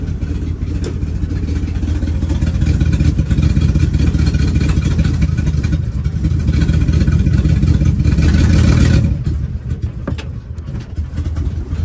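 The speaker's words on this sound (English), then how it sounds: "It's got an exhaust leak at the passenger side pipe where it comes up and meets the manifold collector." A 2019 Ford E350 van with a broken passenger-side exhaust pipe leaking at the manifold collector idles loud and raspy, rising into a sustained rev before dropping back, with a ticking, clattering leak throughout.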